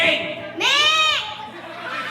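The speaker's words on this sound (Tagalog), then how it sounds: "Kambing." A goat gives a single clear, wavering bleat lasting about half a second, close and prominent amid a murmur of voices during an animal-sounds game.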